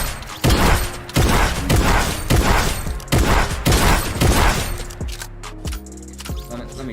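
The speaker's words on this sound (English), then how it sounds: "it's especially this new combat shotgun" Combat shotgun blasts in Fortnite, five loud booming shots at a steady rhythm about a second apart, followed by quieter mechanical clicks and game sounds.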